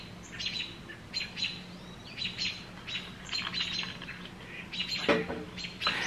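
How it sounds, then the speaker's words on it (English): Several birds chirp and sing outdoors in repeated short bursts over a faint steady background hum, fairly soft and somewhat distant, without any talk. "those birds are going at it."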